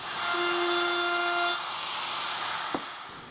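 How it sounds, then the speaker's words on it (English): A router with a quarter-inch round-over bit runs along the sharp edges of a wooden Kubb piece, giving a loud, close, steady whine and rush that eases off, with a short knock near the end. "With a 1/4 inch round over bit, I'll go around all the new sharp edges."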